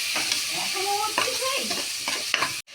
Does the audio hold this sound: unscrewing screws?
no